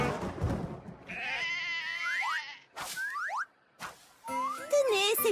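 Cartoon blue sheep bleat in a French animated series, several quick wavering bleats mixed with bouncy sliding cartoon sound effects and a voice at the start.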